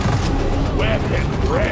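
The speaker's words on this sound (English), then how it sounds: "We're halfway through the pump sequence. Liquid morkite is being refined." A refinery pump in Deep Rock Galactic grinds away while refining liquid morkite, giving a loud, steady mechanical roar with rattling, ratchet-like clanks and brief tonal whines throughout.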